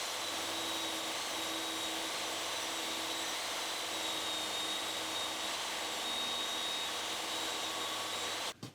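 A mitre saw whines steadily at moderate distance while cutting walnut, a continuous high motor tone with a faint hum underneath, ending in a sharp click.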